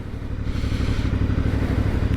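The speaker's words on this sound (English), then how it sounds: "it's got that sort of V-twin burble, which I really love" Close, steady low rumble of a 2021 Aprilia Dorsoduro V-twin supermoto engine running at a throaty burble, with no voices over it.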